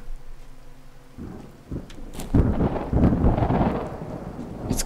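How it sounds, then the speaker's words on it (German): A thunderstorm rolls through the survival video game Cube Life: Island Survival, starting with a low rumble, then swelling into loud thunder over steady rain that keeps pattering to the end. "Jetzt gewittert es auch noch."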